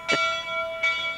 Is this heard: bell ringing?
yes